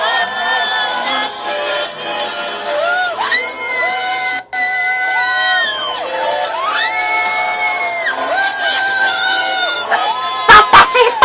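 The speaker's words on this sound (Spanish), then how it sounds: "Escuchan los gritos que yo sé que todas tendremos en exceso" A concert crowd of fans in Almaty shrieks and cheers in long, loud waves of high-pitched screaming that rise and fall repeatedly, with whoops and shouts mixed in throughout.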